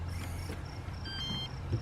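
An electronic keypad keyless entry lock on an RV, a Global Link Ultra E Pro, gives a short sequence of faint, high electronic beeps, a few separate chirps followed by a brief cluster of tones, heard up close.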